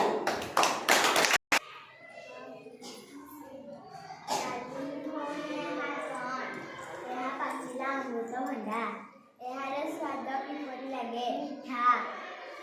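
A group of children clap in a short, fast burst at the start, followed by a teacher speaking to the class with children's voices in between.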